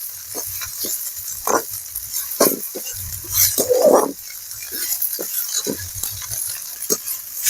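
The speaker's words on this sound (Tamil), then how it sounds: "ரெண்டு கீரையும் ஒன்றா கலந்து வதக்குறோம்" Mixed spinach greens, including sandikeerai, sautéing and being stirred in a pan, with scattered soft sizzles and scraping clatter coming in irregular bursts, fairly close and moderately loud.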